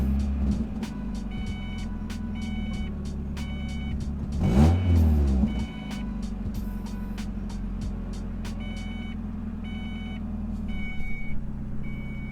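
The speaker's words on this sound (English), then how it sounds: "this car already seems like it's idling a lot better." A project car's engine idles with a steady low drone and a rapid regular ticking. Midway through, a brief louder swell rises and then falls away.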